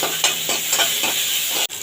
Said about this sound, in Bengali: নিম পাতাটা কিন্তু বন্ধুরা ফোড়নে দিয়ে ভেজে ফেলবেন